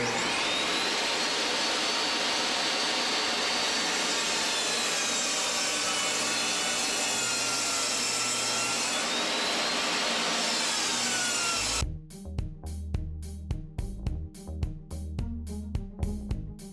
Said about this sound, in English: we are cutting a bunch of 6" by 1/2" MDF, some 4" by 3/4, and 5" by 1